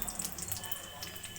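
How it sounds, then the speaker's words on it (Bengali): Chopped ginger dropped into hot oil for tempering, a faint steady sizzle and crackle throughout. "এবার ওই তেলের মধ্যে আমি এগুলো ফোড়ন দিয়ে দেব।"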